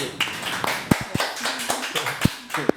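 A few scattered hand claps, sparse and uneven, ring out in a small room, sounding like a handful of people politely clapping.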